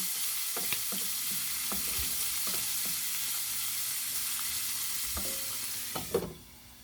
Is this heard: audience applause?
no